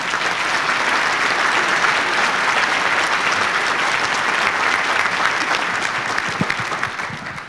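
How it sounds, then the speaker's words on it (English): An audience at an entrepreneurs' breakfast applauds to welcome Secretary of State Mary Kiffmeyer: loud, dense, steady clapping from a crowd that holds for several seconds before tapering off at the end. "please give her a warm applause, a nice welcome"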